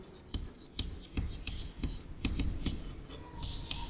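A pen writes a formula by hand on paper, making quick, rhythmic scratching strokes and taps that repeat steadily and close up, with a soft breathy murmur in the background.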